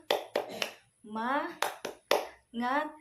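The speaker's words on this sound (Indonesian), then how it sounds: "Ayo, 1, 2, 3, tepuk semangat." Schoolchildren perform a rhythmic spirit clap in a classroom: sharp bursts of hand claps in quick patterns, alternating with chanted group voices, close and fairly quiet.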